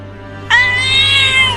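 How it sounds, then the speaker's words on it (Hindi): A cat trapped in a cage lets out one loud, drawn-out meow that starts abruptly and holds steady to the end, close and clear over a low steady hum. "अरे ये बिल्ली तो पिंजरे में से निकलने की कोशिश कर रही है।"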